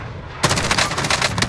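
Rapid automatic gunfire from Call of Duty Warzone quads mode bursts in abruptly after a brief quiet moment, a loud, dense stream of shots lasting about a second.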